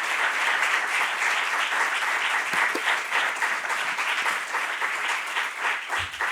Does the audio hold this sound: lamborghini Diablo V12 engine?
no